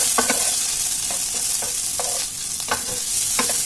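Boiled potatoes frying in a pan are stirred, a loud continuous sizzle broken by repeated spatula scrapes and knocks at an uneven rhythm.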